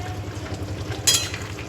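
Cooked food sizzles gently in a kadai with plenty of water while it is stirred to keep it from sticking, a steady low fry with one brief bright scrape of the spoon partway through, close and without speech.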